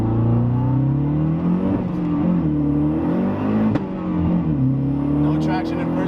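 A 400-horsepower big-turbo Mazdaspeed3 accelerates hard from inside the cabin, its engine note climbing through rising harmonics with a brief shift dip, loud and continuous.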